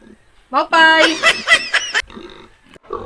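Pigs grunting and squealing in a loud, harmonic burst that runs for about a second and a half. Quieter vocal noises come before and after it, and people may be talking around it.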